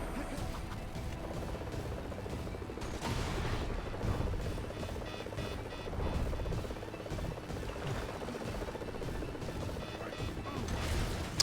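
Explosions in the LEGO Marvel Avengers video game arrive as a dense run of booming crashes and smashes over game music, loud and continuous with repeated impacts throughout.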